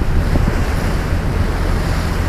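Choppy sea driven by a southwest wind: loud, continuous roaring wind buffets the microphone over the rumbling wash of waves, with no voices.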